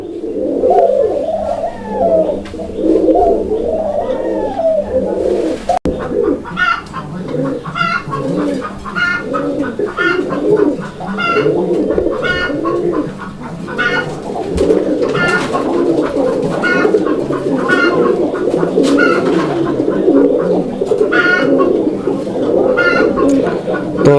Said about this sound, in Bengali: ওর খাঁচায় আসার পরে ও কি পরিমাণ ডাকাডাকি করতেছে